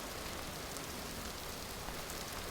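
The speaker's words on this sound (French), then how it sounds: "finalement, il pleut, il pleut. C'est assez terrible," Steady rain falling in the survival video game Vintage Story, a dense, even hiss of drops on surfaces that runs unbroken and fairly quiet throughout, with no voices.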